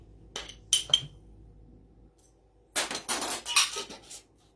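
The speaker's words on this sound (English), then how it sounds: "I'm going to add some dehydrated onion, about a teaspoon" A teaspoon of dehydrated onion goes into a glass jar, heard as a few light clinks of the spoon on glass followed by a short rattling patter of dry flakes, close and quiet.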